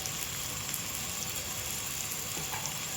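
Mixed vegetables with masala and chili powder fry in a kadai, giving a steady, even sizzle with faint stirring scrapes, close and continuous with no voices.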